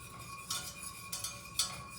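A whisk beats butter into a beurre blanc sauce in a pan, giving quiet metallic clinks and scrapes at roughly half-second intervals over a low hum.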